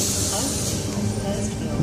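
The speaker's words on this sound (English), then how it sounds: "Tangara bound for Bondi Junction, now departing platform number 1." A Sydney Tangara suburban train leaving the platform at Gymea station, heard as a loud, steady rumble and hiss from close by, with a voice talking over it.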